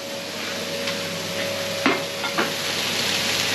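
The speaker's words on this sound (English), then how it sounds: "Let's still stir fry in there." Food stir fried in a pan, a steady close sizzle with a constant hum underneath and a couple of soft scrapes of a utensil stirring.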